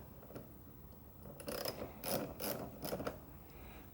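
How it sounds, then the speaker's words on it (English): A ratchet clicks while loosening a spark plug on a Jeep Wrangler with a 3.6L engine, giving a few quiet, close bursts of rapid pawl ticks spaced about half a second apart. "Hit it with the other ratchet."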